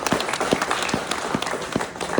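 A workplace group clapping at a monthly meeting, a modest round of applause with a few distinct, rhythmic louder claps standing out close by.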